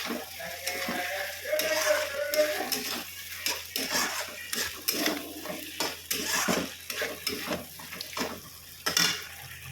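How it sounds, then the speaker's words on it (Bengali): Paneer being stirred into fried masala in a pan, with repeated scraping and clinking of a utensil against the metal pan over a soft sizzle, steady and close throughout. "মশলাটা কষানো হয়ে গেছে পনিরটা এবার দিয়ে দিলাম এর মধ্যে"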